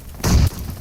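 A single short, heavy boom of a grenade blast in PUBG Mobile, a sudden thud lasting about a quarter second before dropping back to quiet.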